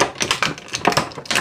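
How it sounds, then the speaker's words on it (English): Small toy pistols are pried out of action figure packaging, giving a quick run of close, crisp plastic clicks and taps over about a second and a half. "Let me pop these out real quick."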